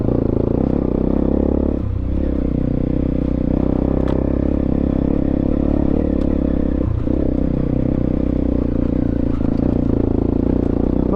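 A Honda CRF 250 dirt bike ridden off-road over rocky ground in second gear, its engine droning loud and steady with brief dips in revs, accompanied by clattering and scraping from the rough terrain.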